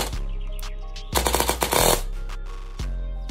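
An airsoft AEG with a 16 TPA SHS motor fires one short, rapid burst of about a second, its mechanical cycling clicking quickly and close, with quieter motor whirs before and after.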